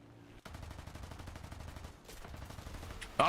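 MiG-23 cannon fire in War Thunder, a rapid steady burst of loud gunfire running nearly throughout, with a brief break before it starts and a sharper loud burst at the end.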